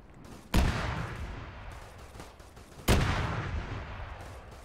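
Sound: gunfire in the video game Arma 3 Warhammer 40K mod

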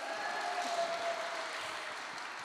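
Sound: applause for Helen

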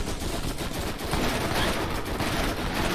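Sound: gun firing in Borderlands video game

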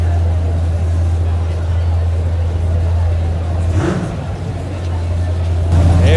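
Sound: classic car engine running at car show

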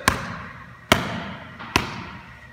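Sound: stiff hand hitting volleyball with low-pitched thud

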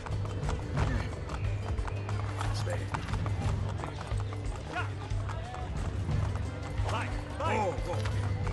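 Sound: horse galloping in video game Assassin's Creed Brotherhood

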